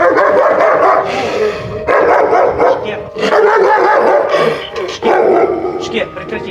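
A dog in Kherson barks and yips repeatedly in short, loud bursts during an animal evacuation, close by and mixed with people talking.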